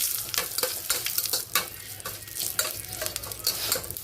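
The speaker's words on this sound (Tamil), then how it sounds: "இது எல்லாம் போட்டு கொஞ்சம் ஃப்ரை பண்ணி எடுத்துக்கலாம்" Whole spices, cloves, cardamom, cinnamon and bay leaf, frying and being stirred in a pan for coconut milk biryani, a steady close sizzle broken by scraping stirs, with no voices.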